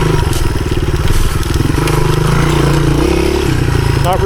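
A 1983 Honda XR200R dirt bike runs steadily on an off-camber enduro trail, its single-cylinder engine putting out a loud, close, continuous throb with pitch shifts as the throttle varies throughout.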